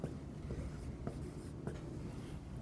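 A marker or chalk writes on a board while solving a partial fractions math problem, making a few quick, close scratchy strokes and taps in a quiet room.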